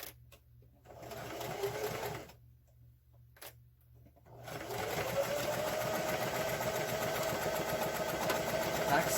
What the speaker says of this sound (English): Back stitch the beginning and the end. Go right off of the end so that you're sure to get the entire side.